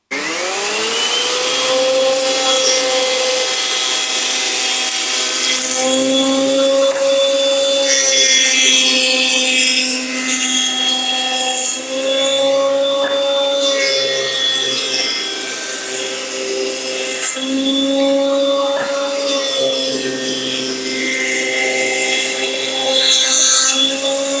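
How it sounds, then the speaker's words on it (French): A VEVOR cyclone shop vacuum drones loudly and continuously while a woodworking jointer whines alongside it, its pitch dipping and rising as wood feeds through, with no talking. "On va allumer l'aspirateur, la dégauchisseuse"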